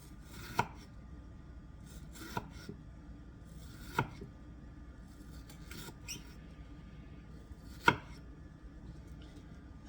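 A knife cuts the deep core out of an onion on a cutting board, producing a handful of sharp, spaced taps and soft scraping strokes, quiet and close with no talking.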